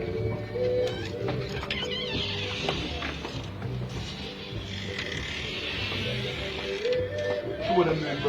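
Pigeons or doves coo close by in steady repeated calls, mixed with mechanical clicking and a busy outdoor background, with no talking heard.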